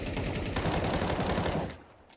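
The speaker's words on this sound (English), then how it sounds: "And then a wall bang by Nitsua" Gunfire from a wall bang in a Counter-Strike match, a continuous burst of rapid shots lasting well over a second before it cuts off and fades, loud and with no talk over it.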